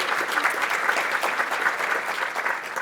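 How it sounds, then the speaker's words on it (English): A business chamber of commerce audience gives a big round of applause, a dense, steady wash of many hands clapping continuously and fairly loud in a hall. "Give her a big round of applause."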